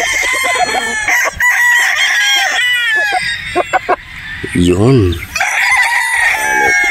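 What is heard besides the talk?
Gilmore gamefowl rooster crowing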